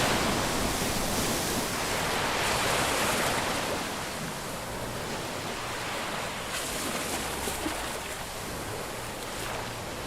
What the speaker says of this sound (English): So waves should be bigger maybe?